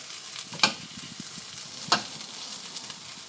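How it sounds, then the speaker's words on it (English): Potatoes frying in a pan for a Spanish omelette are pressed flat, with a soft steady sizzle and two sharp scraping knocks from the utensil against the pan. "Now all we want to do now is just flatten it out a bit, and it doesn't matter if you break up the potatoes."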